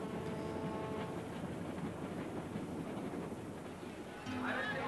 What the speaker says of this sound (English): the train has climbed 300 vertical feet up the side of the mountain